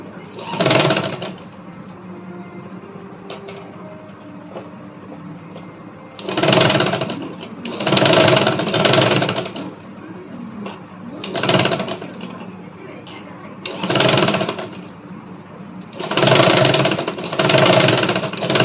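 A sewing machine stitches a blouse collar in several bursts of steady, fast mechanical running separated by pauses, with a person talking quietly between and over the runs.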